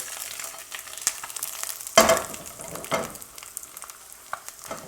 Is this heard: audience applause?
no